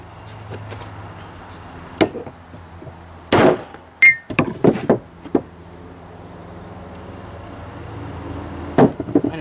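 Hammer blows driving a seal into a Ford 800 tractor, a few sharp metallic strikes spread out irregularly, including a quick cluster of close, loud hits, over quiet workshop background.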